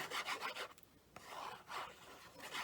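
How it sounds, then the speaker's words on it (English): Scored white paper card, 4 1/4 by 11 inches and folded at 5 1/2, is burnished with repeated close rasping rub strokes, steady and dry, with a brief pause partway through. "Give that a good burnish."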